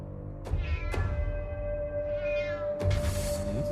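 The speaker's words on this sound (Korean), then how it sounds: "계속 집 주변에서 고양이 울음소리가 들린 겁니다" A cat meows repeatedly around a house in north London, several close, wavering cries spaced out over a few seconds against a steady low background hum, with no talk.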